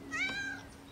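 Cartoon cat giving a single short, faint meow with a rising then falling pitch, heard alone.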